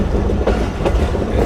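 An HM30 locomotive leads a Pakistani express train running on rails, a steady close rumble with faint rhythmic clatter from the wheels throughout.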